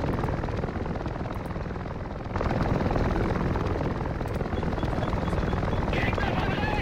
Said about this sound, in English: each one of these choppers has over 50 troops inside of it